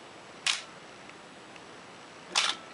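Canon AE-1 camera with a cloth shutter firing twice, each a crisp, sharp mechanical click about two seconds apart, close and clear over a quiet background.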